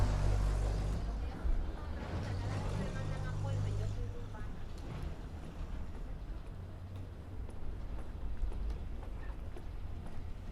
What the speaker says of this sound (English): I've got this like this car engine ambient sample that I like